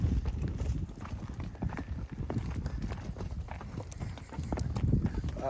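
Mesa, a ranch horse being ridden while moving a group of cows, clip-clops steadily with a continuous run of hoofbeats, fairly close and moderately loud over outdoor background noise.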